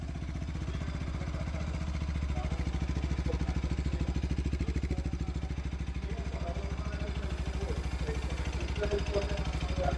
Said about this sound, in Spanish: Primero escuchemos el sonido del motor en ralentí.